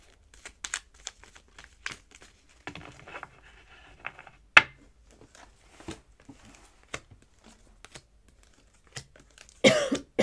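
Several short, sharp coughs scattered through a quiet stretch, with faint crinkling and tapping in between and a louder burst near the end.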